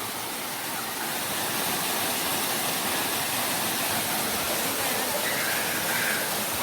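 Steady, loud roar of Mandayao Waterfall in Negros Occidental, Philippines, pouring into a swimming hole, a dense continuous rush of falling water with no break.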